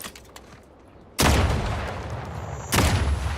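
Gunfire from a gun in The Outer Worlds 2: two loud, sudden bursts of shooting, each with a booming tail, following a quiet stretch.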